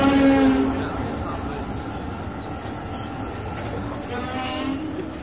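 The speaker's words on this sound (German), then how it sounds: "Und da kommt die Straßenbahn." A city tram arrives with rumbling wheels on rails and brief squealing tones near the start and end, moderately loud and steady, while people talk over it.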